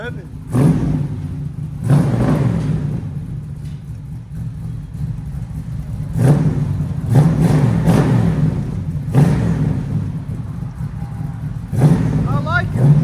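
Several punchy throttle stabs from a 1966 Chevy Nova II four-door V8 fitted with true dual 2.5-inch MagnaFlow exhaust, each rising from a low, loping idle and falling back, heard up close.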